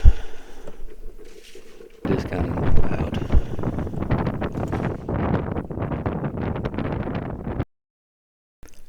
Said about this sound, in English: the wind is kind of loud